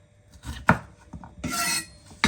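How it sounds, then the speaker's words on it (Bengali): A knife chops through rhubarb stalks on a cutting board: a few close, crisp strokes with short thuds and rasping slices, unevenly spaced, with no speech. "এখন আমি কেটে নিই"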